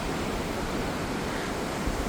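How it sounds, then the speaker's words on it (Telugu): Steady, loud roar of rushing water at the Great Falls of the Potomac River, a dense unbroken wash of white noise with no pauses, heard close and alone without any talking. "ఫోటోమాక్ గ్రేట్ ఫాల్ బాగుంది. మంచి సౌండ్, వాటర్ ఎంత బాగా వెళ్తుందో చూడండి"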